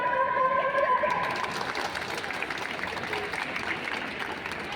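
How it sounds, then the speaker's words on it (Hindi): An audience at a World Mental Health Day college of nursing gathering applauds steadily, strongest at the start and then settling into even clapping, with some crowd noise mixed in. "अपने लिए जोरदार तालियां बजाते हैं।"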